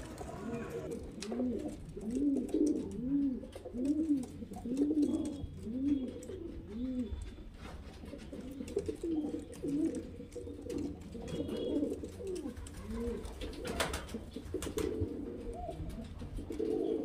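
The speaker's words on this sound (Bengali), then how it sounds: "এখানে দেখতে পাচ্ছেন এটা বাজরে পায়রার পেয়ার আছে" Highflyer pigeons coo steadily in a repeating, rhythmic pattern throughout, close and moderately loud, with faint background noise.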